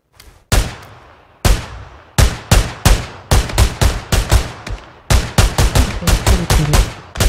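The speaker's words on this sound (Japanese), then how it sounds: "撃たれてる。" Rapid bursts of gunfire in the PS4 battle-royale game PUBG, sharp loud shots in clusters with short pauses between volleys, no talking.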